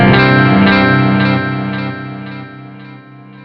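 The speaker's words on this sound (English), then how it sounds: "I've loaded the Mod Chorus Echo model" Electric guitar notes through a Line 6 Helix Mod Chorus Echo model ring out with a shimmering chorus and repeating echo, each strum fading gradually over several seconds, clear and close.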